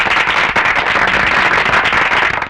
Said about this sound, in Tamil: பட்டாசு வெடிக்கிற சத்தம் கேட்கறத பார்த்தா